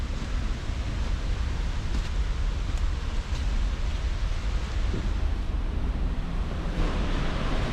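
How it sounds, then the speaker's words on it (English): Reekie Linn waterfall in Scotland roars steadily and loudly from its top, a dense unbroken rush of falling water with no voices. "This is us right at the top of the waterfall here."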